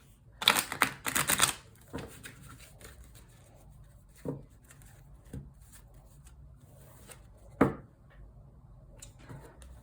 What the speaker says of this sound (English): I love to shuffle this deck.